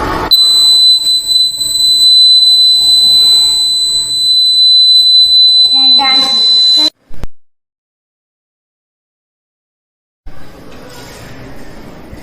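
Electric buzzer powered by a battery in a simple school science circuit, a loud continuous high-pitched tone for about seven seconds, cut off abruptly, followed by silence and then faint room noise.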